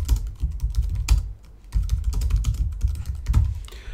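Code is typed on a computer keyboard in a fast, close run of clicking keystrokes with one short pause, and no voices.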